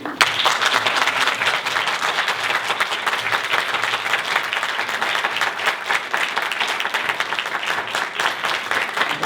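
A university debate final crowd applauds the debate teams of Universidad Santo Tomás and Universidad de Valparaíso, with sustained, dense clapping from a large audience that holds steady throughout.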